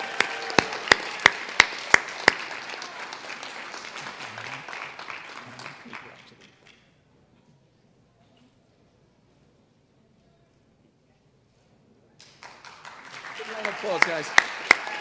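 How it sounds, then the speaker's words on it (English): Applause from a school board meeting audience honoring a student, a dense burst of clapping that drops into silence midway and then starts up again toward the end, with voices mixed in. "give a big round of applause for Miss Hannah Farris"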